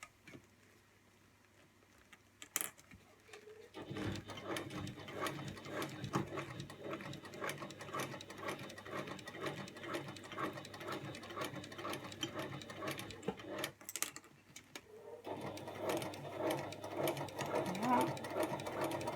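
A sewing machine stitches bias binding, its rapid even needle patter running steadily for about ten seconds, pausing briefly, then resuming; a voice speaks quietly over parts of it.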